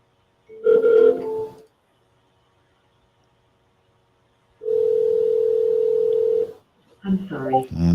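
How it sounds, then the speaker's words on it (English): A telephone ringback tone on an outgoing call, heard as two steady rings about two seconds long with a pause between them, loud and alone on the line, with a brief voice at the end. "she let it ring two times"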